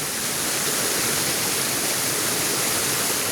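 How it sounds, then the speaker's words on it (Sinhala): A waterfall swollen with extra water at Handukala, Warapitiya, Sri Lanka, roars steadily and close, a dense, unbroken wash of falling water with no voices over it. "ලස්සන දියපාරක්"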